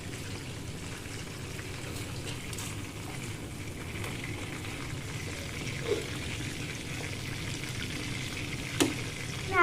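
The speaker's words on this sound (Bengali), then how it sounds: "তো এখন ফ্রাই ভাজা হচ্ছে" Marinated chicken fry sizzles in hot oil with a steady, moderate hiss throughout, broken by a couple of brief clinks near the end.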